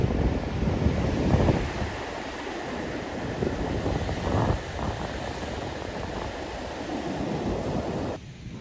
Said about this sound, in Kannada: ಇವಾಗ ಅಲೆ ನೋಡಿ ಎಷ್ಟು ಕಡಿಮೆ ಇದೆ.